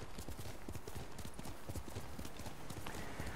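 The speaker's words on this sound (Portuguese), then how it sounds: "Vou chamar meu cavalo aqui." Horse hooves galloping in the video game Ghost of Tsushima: rapid, rhythmic clip-clop beats that stay steady and fairly close, over constant game ambience.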